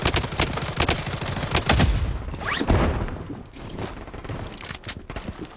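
Rapid automatic gunfire in a shooter video game, dense bursts of shots and loud cracks rattling almost continuously, close and dominant, with a few heavier booms mixed in and no talk.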